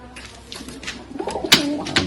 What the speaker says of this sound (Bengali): এটা তো বাড়ির পায়রা